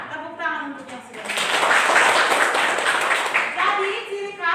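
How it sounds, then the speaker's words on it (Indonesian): A classroom group claps in a short burst of dense, even clapping lasting a few seconds, with a voice speaking before and after. "Tepuk tangan untuk yang sudah."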